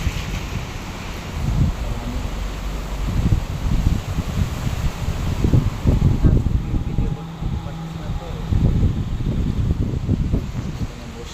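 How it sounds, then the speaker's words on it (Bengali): Strong wind during a rainstorm buffets the microphone in gusty, rumbling waves over a steady wash of noise, with a voice speaking at times. "প্রচণ্ডভাবে বাতাস হচ্ছে।"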